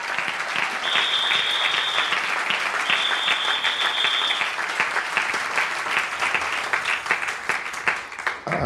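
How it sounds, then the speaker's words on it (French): A church congregation at a Sunday service clapping for the Lord, loud sustained applause from a crowd that fills the room, with a couple of high sustained tones briefly sounding over it. "Can we clap for the Lord?"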